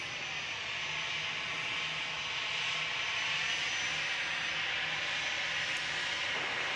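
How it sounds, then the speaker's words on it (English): A jet airliner at DFW Airport, taking off from runway 36 right, makes a steady, distant engine roar that holds evenly throughout, quiet and alone with no talking. "We've got flight 2108 out on 36 right, ready to take off to Phoenix."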